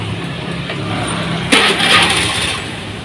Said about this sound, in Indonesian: Sekarang coba dihidupkan.